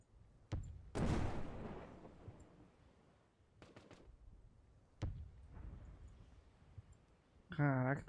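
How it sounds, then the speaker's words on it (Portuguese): Explosions sound in the tactical shooter video game Tip of the Spear, several sharp booming blasts spaced irregularly at moderate loudness, with quieter clicks between them and a brief tonal game sound near the end. "Caraca, tá tendo umas explosões nervosas aí."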